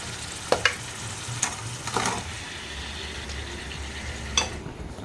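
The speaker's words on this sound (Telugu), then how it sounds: "ఇప్పుడు ఒకసారి మిక్స్ చేద్దాం." Mutton pieces being mixed into fried masala in a pan, giving a low steady sizzle with a few sharp scraping clicks of a spoon against the pan, and no voices.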